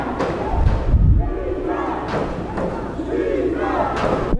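Crowd roaring and cheering at a Florida Basketball Association game, Palm Beach Knights at Florida Flight, late in a close contest; loud, dense, sustained arena noise with swelling peaks throughout.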